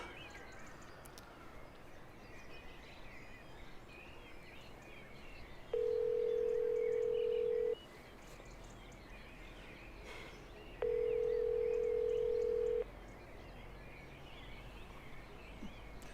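A phone call goes unanswered as two long, steady electronic ringback tones sound a few seconds apart over a low background hum, with no one speaking.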